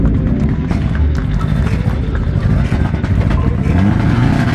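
A Mitsubishi Lancer rally car at a mountain rally near Varna revs its engine loudly and continuously up close, with a dense, rough, throbbing roar and a crowd or ambient murmur underneath.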